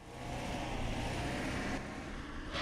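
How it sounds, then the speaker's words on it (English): A car in the video game Period Cube approaches as a steady, broad engine and road rumble that holds for a couple of seconds, heard alone without talk. "What's that sound? A car? Look out! That car's coming right for us!"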